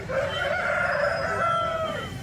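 Rooster crowing at a Kundarapalli breed-chicken market, one long sustained crow rising and falling over steady background clucking and market bustle, fairly close.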